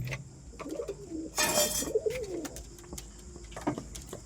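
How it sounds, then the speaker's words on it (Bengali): Pigeons cooing while feeding, several soft low coos repeating near the listener, broken by a brief burst of fluttering wings midway. "এই দেখো সব কটা পায়রা খাচ্ছে।"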